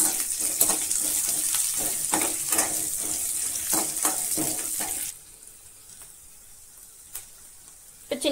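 Peeled garlic cloves sizzle loudly in hot oil in a pan for a spicy radish chutney, a dense crackling fry with a few stirring clicks that drops abruptly to a quiet hiss partway through.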